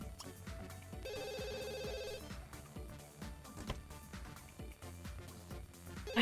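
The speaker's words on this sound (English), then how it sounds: "Maddie, answer the damn phone." A telephone rings inside a house in The Sims 2, a steady electronic ring standing out for about a second over busy background game music and sound effects, with no talking.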